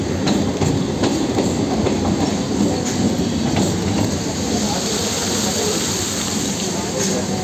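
A Chakra Rail train runs on its tracks with a steady, loud rumble and a faint rhythmic clatter of wheels throughout. The noise is continuous and fills the whole stretch.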